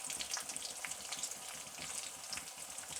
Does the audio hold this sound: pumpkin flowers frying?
yes